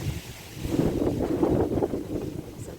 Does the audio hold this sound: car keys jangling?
no